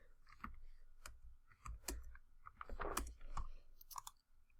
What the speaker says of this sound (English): So the next is going to be just typing in the seconds, right?